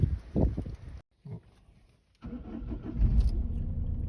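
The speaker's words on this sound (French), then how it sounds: "Alors ça démarre au quart, on est calé là à 900 tours minute." A 2004 Peugeot 307 engine cranks briefly, pauses, then catches and settles into a steady idle around 900 rpm nearby.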